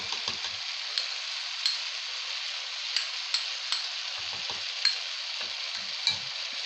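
Homemade chicken shawarma frying in a pan with tahini being stirred, an even close sizzle with light periodic spoon taps and scrapes against the pan, no talking.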